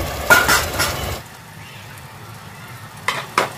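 Onion paste with four green chillies frying in a pan for a non-veg curry, a soft steady sizzle with a few clinks of a utensil against the pan.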